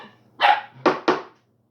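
A small dog lets out three sharp barks, one longer yap followed by two quick ones, close by and loud against a quiet room.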